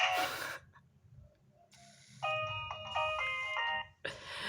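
A Nokia N-Gage QD phone plays a polyphonic ringtone melody of bright, steady synthetic tones, rising clearly over a quiet background after a short burst of noise, with another noise burst at the end.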